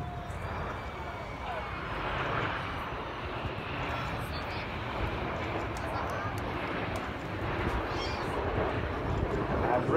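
Red Arrows jets maneuver at an air show, giving a continuous broad roar of engines that swells and drifts, with a commentator's voice running over it throughout.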